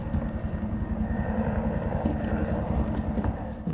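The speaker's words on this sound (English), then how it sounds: "Is that a helicopter?" A helicopter in the Resident Evil 2 video game gives a steady low, droning rumble that holds at even loudness for a few seconds, fairly distant and heard alone.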